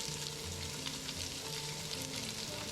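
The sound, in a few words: onions sizzling in oil while being stirred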